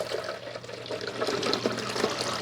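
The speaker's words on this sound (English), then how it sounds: "It's got a nice big opening where you're going to pour the water." Water pouring steadily from a carafe into the wide opening of a Hamilton Beach FlexBrew coffee maker's reservoir, a soft splashing trickle close by.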